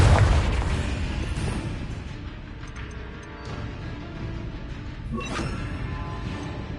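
A Confringo blasting spell goes off in Hogwarts Legacy on PS5 as a loud, close boom, followed by rumbling crashes and a second sharp burst with a trailing rumble, and no talk over it.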